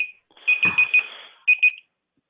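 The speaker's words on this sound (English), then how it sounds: "Everyone's a big fan of my loud buzzer" A loud electronic buzzer sounds during an online broker call, a high tone broken into a few rapid pulses, then a short double burst, ending in silence.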